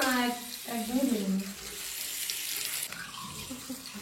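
Stones being washed under running water, a close rushing pour of water with a voice talking briefly over the start before the water continues alone.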